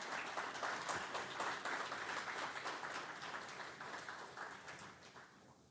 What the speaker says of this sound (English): Can we all clap, ladies and gentlemen?